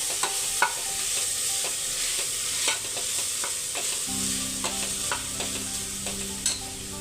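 MTR pulao masala stirred in a hot frying pan with a spoon, bright scraping sizzle and scattered clinks, a steadier frying hum joining partway through, close and fairly quiet with no voices.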